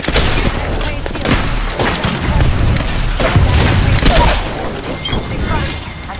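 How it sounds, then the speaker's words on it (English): A grenade explodes in Apex Legends amid booming blasts and bursts of gunfire in a loud battle, with a voice speaking over the noise. "Throw my grenade out."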